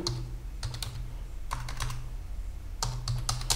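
Keys clatter on a computer keyboard in quick bursts while a PostgreSQL user is created at the command line, three separate runs of typing with short pauses between, close and clear.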